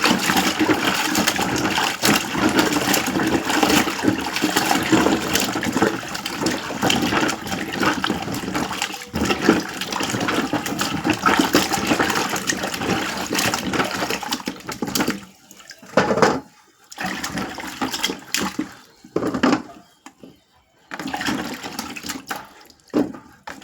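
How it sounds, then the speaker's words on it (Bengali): Cut elephant apple (chalta) pieces are washed in water, a steady loud splashing and sloshing that breaks up near the end into short bursts of swishing with quiet gaps. "এখন আমরা ধুয়ে নেব চালতাগুলোকে। এই যে ভালো করে এখন ধুয়ে নেব।"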